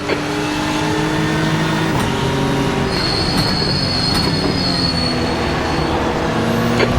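A GT3 race car accelerating in the iRacing sim, its loud engine giving a sustained tonal whine whose pitch steps and shifts as it pulls, with a thin squeal on top and no talking.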